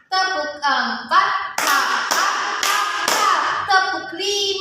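Children clap during an ice-breaking counting game, a chanting voice running between the claps, then a run of four sharp, loud hand claps in quick succession before the voice resumes.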